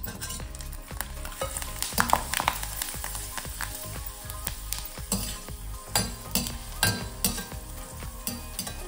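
Dried cluster beans deep frying in hot oil, a dense continuous sizzle and bubbling with repeated stirring scrapes and light metal clinks of a ladle against the pan, close and fairly loud.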